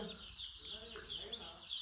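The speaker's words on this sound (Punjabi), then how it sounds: "ਓਏ ਆਹ ਚਿੱਟਾ ਆ ਚੂਚਾ ਕਿਹੜਾ ਵਾ?" Small chicks wander around a yard, giving faint, high, thin cheeps in a few short bursts against a quiet background.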